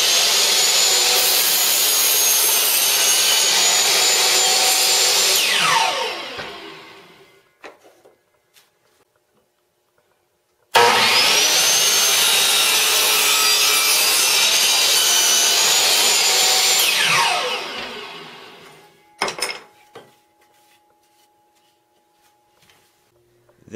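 A hand saw cuts through a piece of wood for a homemade wooden crossbow in two long, loud bursts of rapid rasping strokes, each tapering off into near silence, with a few small knocks between them.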